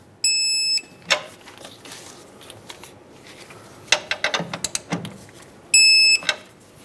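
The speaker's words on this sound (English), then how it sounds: "I'm going to torque these to 20 foot-pounds." A torque wrench tightens bolts to 20 foot-pounds while an air suspension helper spring kit is fitted to a 2003-2009 Dodge Ram 2500. Two short bursts of high electronic beeping bracket a run of sharp, close ratcheting clicks.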